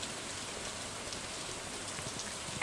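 Rain in the farming game Stardew Valley, a soft, even hiss of falling drops that holds steady and faint for the whole stretch, no voices.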